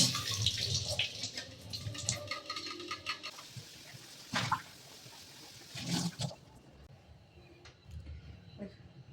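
Vegetables, including sponge gourd, are rinsed under a running tap, with steady water splashing and a few brief louder clatters before the flow eases into quieter handling.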